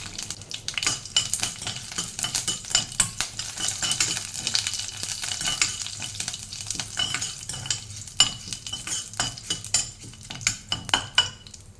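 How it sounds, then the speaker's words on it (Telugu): Curry leaves sizzle and crackle as they fry in a hot hair-mask mixture, with steady frying hiss, irregular pops and occasional clinks of a stirring spoon against the pan. "ఇంక ఇదంతా బాగా వేగుతుంది కదా"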